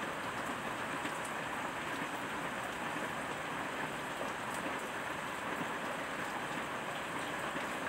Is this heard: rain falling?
yes